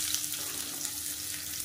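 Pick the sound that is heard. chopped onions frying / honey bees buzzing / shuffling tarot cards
chopped onions frying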